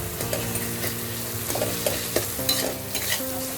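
Masala frying in oil in a pan for Bengali chicken kosha, a constant close sizzle with occasional spoon scrapes and light taps as it is stirred, no voices.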